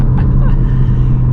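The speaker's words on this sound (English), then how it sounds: "the Miltech sounds fantastic, and I'm so glad it has that sports cat because it makes it loud" A Ford Focus RS MK3 fitted with a Milltek exhaust and sports cat gives off a loud, steady low engine rumble from close by, with a voice faintly underneath.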